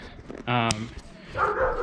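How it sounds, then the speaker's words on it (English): A dog gives one sharp bark close by, followed by softer whimpering yips, with someone speaking just after it. "That's my dog."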